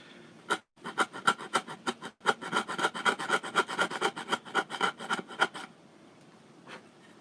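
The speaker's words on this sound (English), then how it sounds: "10 seconds of actual sawing, and it went at the depth of the blade." A folding hand saw cutting through wood in quick, rhythmic rasping strokes, close and steady, stopping after several seconds.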